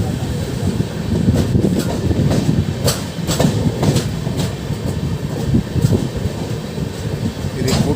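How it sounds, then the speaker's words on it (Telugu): A goods train rolls past Bettarakunta railway station without stopping, heard from aboard a Vikramasimhapuri intercity train. Steady loud rumble with regular clickety-clack wheel beats runs throughout. "ఇది గూడ్స్ ట్రైన్ అండి"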